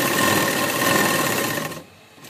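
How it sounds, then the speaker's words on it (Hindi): A sewing machine runs steadily, stitching a rounded pocket on a burqa, then stops and leaves a quiet hum. "दोनों कपड़ों को बराबर हिस्से में पकड़ेंगे और गोल सिलाई करेंगे जेब की।"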